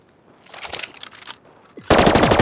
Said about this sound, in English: I like the elegance of these rifles.